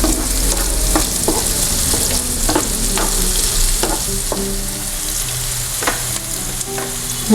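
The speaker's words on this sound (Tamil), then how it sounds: "இதில் வெங்காயம் வெங்காயம் கொஞ்சம் நேரம் வதங்கட்டும்" Onions sautéing in a pan for chow chow masala gravy, a steady frying sizzle broken by repeated stirring scrapes and clicks from a spatula, with no voices.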